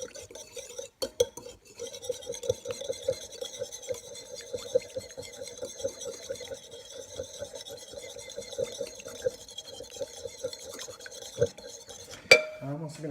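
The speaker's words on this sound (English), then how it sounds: "So we got our ginger, we got our garlic, soy sauce. And we're just going to whisk that, get it all incorporated." A whisk scrapes and clinks rapidly in a bowl as ginger, garlic and soy sauce are mixed into a dressing, a continuous faint metallic stirring with a sharper clatter near the end.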